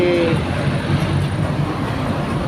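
An LRT train at Buendia station in Manila rumbles past close by, loud and steady, with a faint high whine at the start and traffic noise blending into the rail noise.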